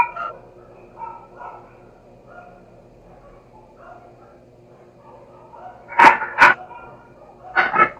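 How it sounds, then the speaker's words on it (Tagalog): Neighbours' dogs bark in sharp bursts, two quick loud barks and then a second pair, nearer and clearer after a stretch of faint distant yips and background noise. "pabayaan yung mga aso ninyo na magtatahulan yan"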